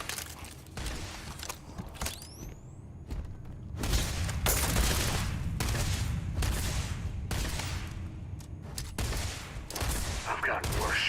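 Rapid bursts of gunfire from a weapon in the video game Starfield, loud and close, firing in repeated volleys with brief pauses between them.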